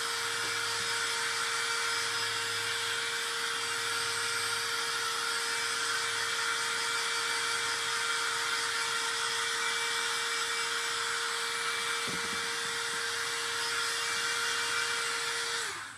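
A small hair dryer drying gloss paint on an upcycled craft item runs steadily at close range, with a continuous airy whine and no talking.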